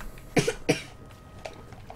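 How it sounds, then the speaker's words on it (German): Two sharp coughs close together near the start, followed by a few fainter throat noises, in a quiet room during a Minecraft play session. "Das Husten. Natürlich hat man das gehört."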